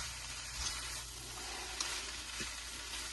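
Vegetable Hakka street-style noodles cook over a low flame, giving a faint, steady frying sizzle with a few soft stirring scrapes and no voices.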